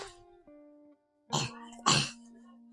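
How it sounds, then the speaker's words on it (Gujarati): Two sharp, loud coughs in quick succession, close by, following a brief low hum that fades to silence. "ઉધરસ ખાય"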